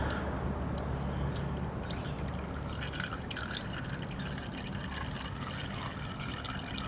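Oil drains out of an enduro motorcycle engine that had taken in water, trickling and dripping steadily into a catch container at close range, with small splashy drops pattering over a constant liquid stream.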